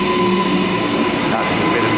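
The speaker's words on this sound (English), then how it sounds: "a Cleveland train is coming in on platform 8" A Cleveland train pulling in at a platform of Boggo Road Station in Brisbane, a loud close rumble with steady tonal hums and a faint squeal near the end.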